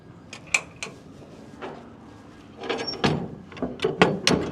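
Metal compartment doors on a custom de-ax stock trailer are swung shut and latched with simple latches, producing a series of sharp clacks and knocks, sparse at first and then quicker and louder toward the end, close by with no speech.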